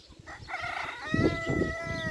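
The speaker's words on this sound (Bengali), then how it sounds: "কত সুন্দর দেশি মুরগি এগুলা" Several chickens cluck nearby on a Saudi Arabian poultry farm while a rooster crows in a long, drawn-out call over a busy farmyard background.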